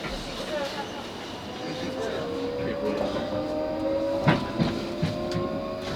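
A South Western Railway Class 458 train rolls along with a steady rumble and whining traction tone, faint clicks from the track and a brief louder knock near the end, while an on-board announcement voice speaks over it.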